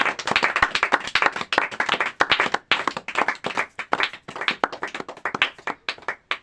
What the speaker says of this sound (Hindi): ताली बजाएंगे और महिमा देंगे प्रभु यीशु मसीह को।